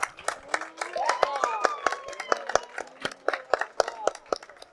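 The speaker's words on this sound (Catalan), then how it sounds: "Un fort aplaudiment per ell." Scattered, sharp hand claps from a modest audience at a public talk ring out in an uneven rhythm for several seconds while a voice speaks over them.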